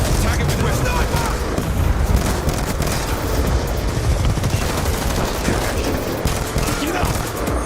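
Rapid gunfire and explosions in an online shooter video game match, dense overlapping bursts and booms throughout, with voices shouting over the action.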